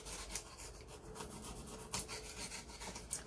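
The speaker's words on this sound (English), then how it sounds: "So I'm just sawing out this text block." Hand saw cutting through a paper text block for a junk journal, giving a steady rasping, rubbing stroke sound close up with a few sharper bursts and no talk.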